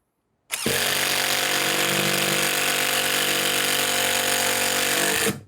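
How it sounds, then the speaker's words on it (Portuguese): NEVVO 16V cordless drill driving a 5x40 screw into soft pine, a loud close motor whine that starts abruptly, holds steady for about five seconds under load, and cuts off sharply. "Esse parafuso aqui tem 5 por 40, se não me engano. Vamos colocar ele aqui, é madeira de pinos, é madeira macia"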